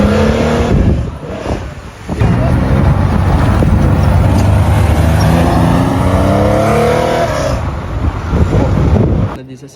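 A race car drives along an open road during the Tour Auto classic rally, its engine a loud, steady, close roar with wind rush that holds for nearly ten seconds before cutting off.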